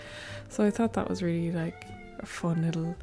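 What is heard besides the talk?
cat screaming for food in the background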